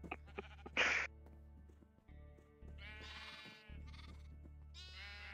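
Sheep bleat repeatedly inside the Minecraft-style video game Voltz during a mass sheep creation, several wavering bleats overlapping in quick succession and fairly close, with no talking.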